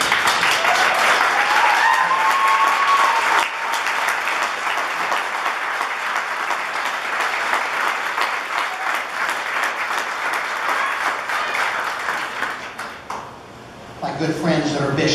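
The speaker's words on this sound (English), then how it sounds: "I hope you listen to that applause." Crowd applauds loudly and steadily, sustained clapping that carries on at length before tapering off near the end.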